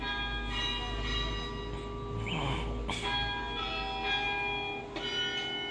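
Carillon bells at St. Clement's church, struck by hand, ring out in a few clear, sustained tones that overlap and decay, heard at moderate distance with faint background noise.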